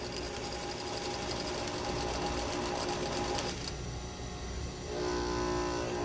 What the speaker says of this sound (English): I'm going to sew this top part at about 1/2 inch.